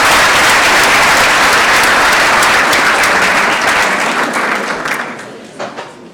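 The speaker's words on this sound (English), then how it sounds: "So everybody should give themselves a round of applause for all the work you have done" Loud, dense applause from a graduation ceremony audience, sustained at full volume for several seconds before thinning out into a few last claps.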